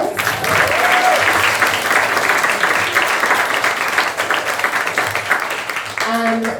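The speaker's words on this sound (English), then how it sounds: "give yourselves a round of applause" An audience at a performative lecture and concert night breaks into applause, dense continuous clapping held for several seconds, with a short voice emerging near the end.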